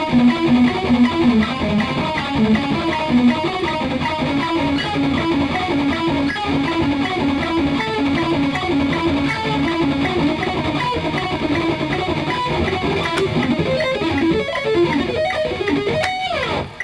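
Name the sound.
distorted electric guitar sweep-picked triad arpeggios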